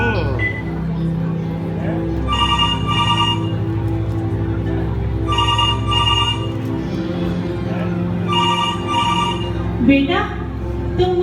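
A telephone rings in repeated bursts, three or four rings spaced evenly, heard over a steady background with some voice-like babble.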